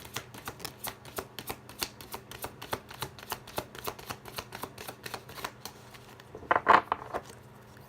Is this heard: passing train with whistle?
no